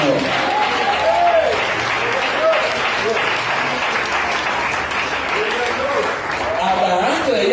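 A church congregation claps loudly and continuously for several seconds, with voices calling out over the applause.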